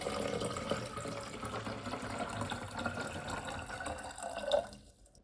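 Water poured into a container while mixing film-developing chemicals at home, a steady close splashing and trickling stream that swells briefly near the end and then stops abruptly, leaving silence.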